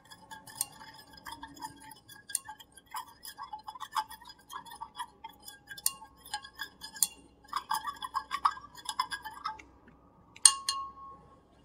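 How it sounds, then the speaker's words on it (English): A salt solution is gently stirred in a glass beaker, giving light, irregular clinks and taps of the stirrer against the glass, close but quiet, with no speech. "And we are going to just gently stir this solution."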